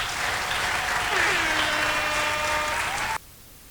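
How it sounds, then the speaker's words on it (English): An audience at an organization gala applauds for an honoree, a dense, steady round of clapping lasting about three seconds before cutting off abruptly, with faint voices mixed in. "please give her a big round of applause"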